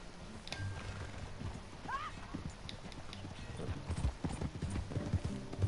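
Hooves clip-clop at a steady walking pace over a busy background, with a brief horse whinny and faint talking mixed in, from the video game Red Dead Redemption 2.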